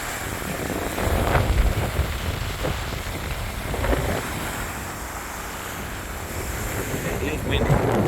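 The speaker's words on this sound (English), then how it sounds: "It is windy." Gusty wind buffeting the microphone over a steady wash of waves at a bay on Eglin Air Force Base, Florida, a continuous roar that swells and eases without pause.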